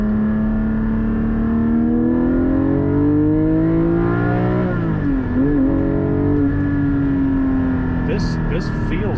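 Porsche GT4 with a 400-horsepower engine droning steadily under load, pitch slowly climbing, dipping briefly and rising again, loud and close throughout.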